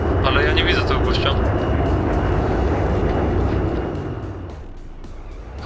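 Aircraft engine drone from an airplane passing overhead in the video game Enter The Matrix, a loud continuous roar that fades slightly toward the end, with voices talking over it.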